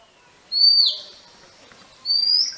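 An oriental magpie robin sings two bright, clear whistled phrases, close and loud, separated by a short quiet gap.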